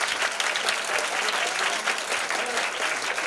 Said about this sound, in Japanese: もっと拍手。